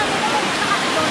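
Broad steady rush of falling water from Eva Falls, a dense continuous roar filling the scene evenly from start to end with no pauses.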